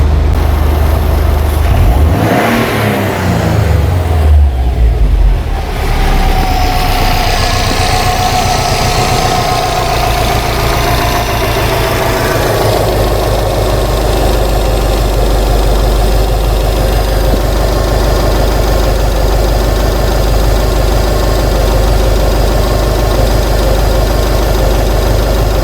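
A 2008 Subaru Legacy engine with a stalling problem revs up sharply near the start, then drops back and settles into a steady, loud, close idle with a low rumble.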